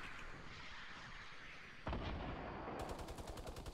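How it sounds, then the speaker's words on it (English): Gunfire in the Fortnite battle royale game: a loud single shot rings out, then a rapid run of repeated shots follows, fairly close and forceful. "Tagged him and sniped him."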